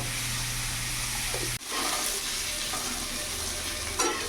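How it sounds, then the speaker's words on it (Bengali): Bitter gourd and potato curry frying in a pan gives a steady close sizzle with faint stirring, a short break partway through, then the sizzle resumes and carries on to the end. "কিছুক্ষণ ভাজা ভাজা করে নিয়েছি"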